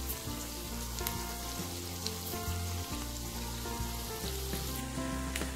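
Bamboo shoot pickle sizzles steadily in a cooking pan with a dense, continuous crackle and hiss that stays even throughout, quiet overall, and no voices.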